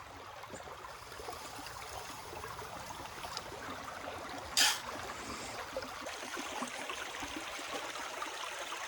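Water runs steadily through a gold sluice box at Nugget Lake, a soft continuous trickling rush with a faint splash partway through.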